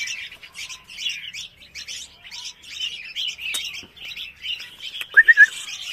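Young red-whiskered bulbuls, including white-patched birds, chirp busily in cages on a bird farm, a steady stream of soft overlapping tweets with a few sharper calls near the end.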